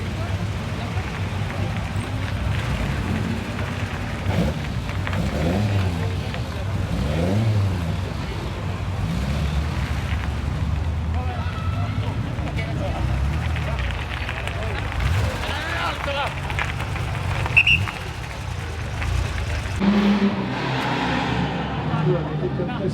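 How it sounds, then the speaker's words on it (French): A very old Porsche on the historic Monte-Carlo Rally passing through Bar-sur-Aube gives a continuous engine drone as it drives past, with a commentator talking over it throughout. "C'est encore une Porsche, ça c'est une Porsche très ancienne."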